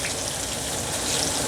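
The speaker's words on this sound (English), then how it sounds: "So I'm going to add 1 more container of chicken stock" Chicken stock pours steadily from a container into a pot of beef, potatoes, garlic and onions, a continuous liquid splashing gush with no talk.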